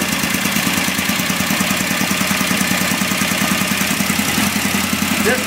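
A car engine idles steadily with a Kadron Solex H40/44EIS carburetor fitted while its idle speed screws are being adjusted, a continuous close, even rumble with a fast pulsing beat and no talk.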